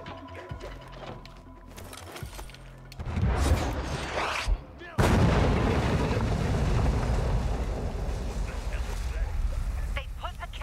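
Video game cannon fire from a rooftop-mounted cannon, heavy booming blasts with a sudden loud impact midway, followed by sustained rumbling explosion noise; a voice speaks faintly early on.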